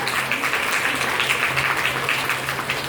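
An audience at a school award ceremony applauds steadily, a dense even wash of clapping from many hands that carries on without pause for a few seconds.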